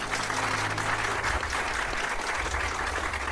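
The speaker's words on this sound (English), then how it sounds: "I'll give him a round of applause." An audience applauding a governor at a televised question show in Nigeria: steady, dense clapping from a crowd, continuous and fairly close, with no talk.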